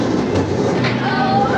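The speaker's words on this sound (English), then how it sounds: "Alright, so it's time to send it on the roller coaster" A roller coaster train rolls along the old wooden scenic railway track at Great Yarmouth Pleasure Beach, giving a continuous close rumble and rattle with a thin wheel squeal rising near the end.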